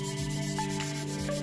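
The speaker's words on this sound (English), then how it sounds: "Just side to side, and it's going to clean off and sharpen that blade to where it's nice and even." A blade being sharpened by rubbing it side to side, a steady continuous abrasive scraping with strong tonal ringing and a couple of brief sliding shifts, close and even in level, with no talk.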